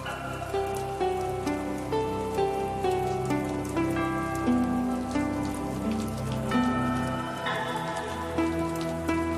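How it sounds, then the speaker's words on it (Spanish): Steady rain patters throughout, blended with a sustained melodic tone drifting over it, with no voices. "La lluvia generosa, la lluvia madre, lo penetra todo con su violencia fecunda."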